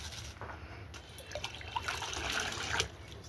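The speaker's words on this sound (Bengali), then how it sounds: "জল দিয়ে ভালো করে গাছটা ধুয়ে জল দিয়ে দেবো" Water is poured onto a hibiscus plant, a faint, short splash and trickle that swells slightly before stopping.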